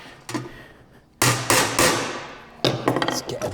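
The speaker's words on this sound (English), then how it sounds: "Let's get a bigger hammer." A larger hammer strikes metal in a car restoration workshop during work on a Maserati Mistral. Several sharp, loud blows ring out with short decays, spaced apart at first, then come as a quicker cluster at the end.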